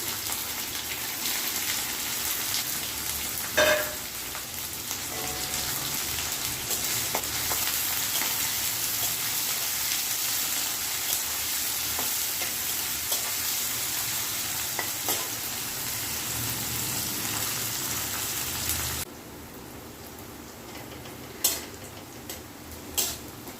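Chopped onion, green chillies and garlic frying in a pan make a steady close sizzle with scattered spatula taps and scrapes, quieting briefly near the end before a few more knocks, with nobody speaking.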